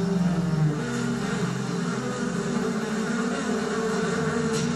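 Killer bees, a hybrid of African and European honeybees, buzz in a dense swarm, giving a loud, steady drone close by, with a stronger low hum at the start that settles into a continuous whir.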